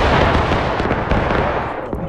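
A musket volley in the American Civil War game War of Rights, a loud ragged crash of many shots fired together, followed by scattered trailing reports and rumbling echo.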